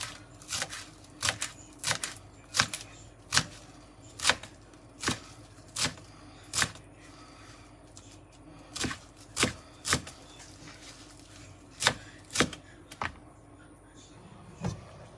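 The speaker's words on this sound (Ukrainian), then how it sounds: "Додаємо зелень петрушку та м'яту. Дрібненько кришем." Knife chopping fresh parsley and mint finely on a board for borscht, sharp rhythmic cuts in short bursts with brief pauses, close and clear over a quiet background.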